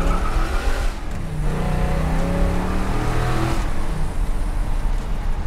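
A 1957 Ford Custom 300 with a 428ci V8 pulls hard in first gear, its loud engine roar rising steadily in pitch, heard from inside the car.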